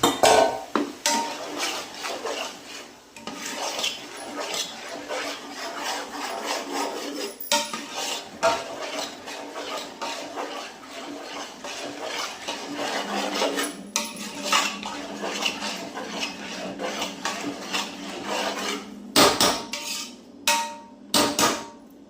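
Tomatoes tipped into a pan and stirred, with steady clatter of a metal spoon against cookware, sharp clinks and scrapes running continuously at moderate level, no talking.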